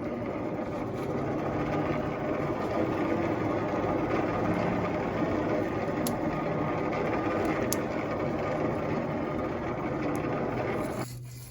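A hand-cranked forge blower for knife making runs steadily and close, a continuous whirring roar with a faint scraping texture that holds level for about eleven seconds before easing off at the very end.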